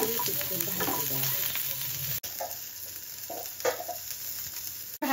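Ghee, garlic, chili, cashews, tomato and onion fry in a pan, giving a steady close sizzle with occasional stirring clatter and a couple of sharp clicks.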